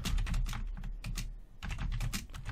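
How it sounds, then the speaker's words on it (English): Fast typing on a computer keyboard, dense bursts of keystrokes with a brief pause in the middle, close and steady, with no speech. "You can see here I'm just typing in some sample text"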